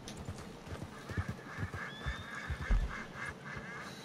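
Rhythmic clip-clop of horse hooves trotting nearby, broken by a brief whinny, with no one speaking, in the video game Red Dead Online.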